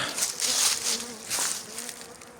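Honeybees buzz close by during a hive inspection, a dense, wavering drone that swells and fades over a couple of seconds.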